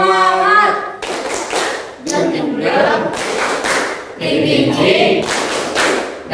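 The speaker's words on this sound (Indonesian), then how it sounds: "Tepuk semangat." A group at a teacher-training session at a school in Rangkasbitung performs a rhythmic spirit clap, sharp claps in short patterned bursts mixed with chanted voices, close and fairly loud.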